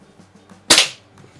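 A single sharp report from a Predom Lucznik springer air pistol, one loud crack with a short decaying tail standing out against a quiet room, with no talking.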